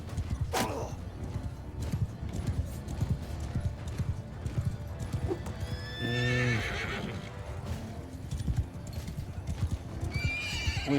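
Cavalry horses in battle in Mount & Blade II Bannerlord, with steady clip-clopping hooves, several loud whinnying neighs and a clash of battle noise throughout, close and busy.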